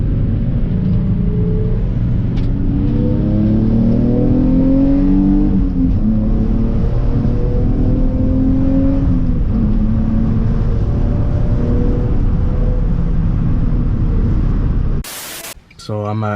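Car engine droning under load after a downshift during a drive, with harmonic tones rising and falling as revs change against road and wind noise, before a sharp cut near the end.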